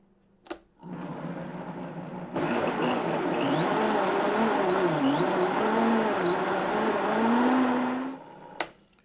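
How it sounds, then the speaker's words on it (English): A countertop blender whirs steadily for several seconds as it purées red lentil tortilla batter, starting with a short burst before ramping up to a loud, sustained grind with a wavering motor pitch, then cutting off. "put the lid on, and we're going to blend"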